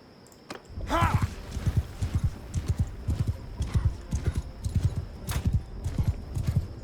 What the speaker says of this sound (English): I could just run in here with my horse now.